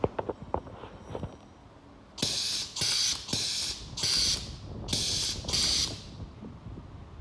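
A pneumatic crimping machine seals caps onto injection vials with a run of five sharp, loud bursts of compressed-air hiss, each about half a second, following some quieter clicks and handling noise.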